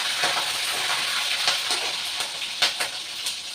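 Green chillies sizzle in hot oil with ginger for samba wheat upma, a steady close hiss with a few sharper pops and crackles breaking through.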